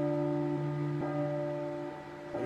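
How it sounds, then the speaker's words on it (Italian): Church bells ring at midnight in the horror video game P.T. (Silent Hill), their steady humming tones sustained and swelling faintly under a dim, continuous background. "risuonano di nuovo le campane. Mezzanotte."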